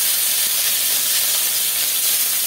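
Onion paste hitting hot oil, a loud, even hissing sizzle that stays steady and close throughout with no voices.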